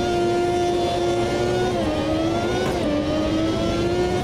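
A 1993 Ferrari F1 car engine revs steadily in the racing game AMS2, a loud, continuous high-pitched whine with slight pitch dips and rises as the throttle shifts.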